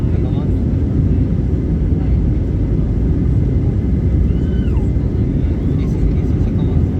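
Inside the cabin of a TAP Air Portugal airliner speeding down the runway for takeoff, a loud, steady roar and deep rumble of engines and wheels fills the space, with faint voices beneath.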